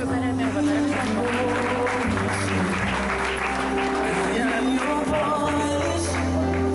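Applause at a wedding fair after a bridal updo is shown, a steady dense clapping that fills the whole stretch with a continuous low hum and music underneath.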